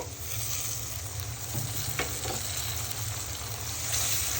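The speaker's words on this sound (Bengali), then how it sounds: "ভালো করে নেড়ে মশলাগুলো মিশিয়ে নিব" Ginger, garlic and cumin paste fries with browned onions in hot oil for a beef liver and lung dish. A dense, steady sizzle runs throughout, with occasional scrapes as the mixture is stirred.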